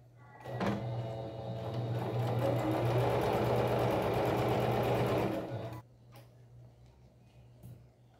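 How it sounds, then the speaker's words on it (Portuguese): A sewing machine runs a steady, close, loud stitching burst for about five seconds while sewing a colorful rug made from fabric scraps, then stops, leaving quiet room sound. "E aqui a gente passa um pezinho de máquina."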